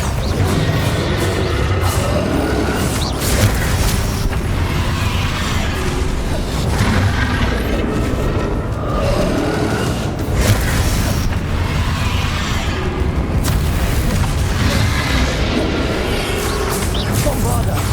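Repeated Bombarda blasting-spell explosions in Hogwarts Legacy, booming and crashing through dense, busy battle noise for the whole stretch, with a voice calling out spells between the blasts.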